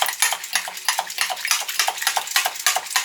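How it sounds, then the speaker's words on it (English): A handheld push whisk beating eggs, with quick rapid clicking and rattling strokes in a steady rhythm, close and fairly loud with no talk. "You just push and it whisks."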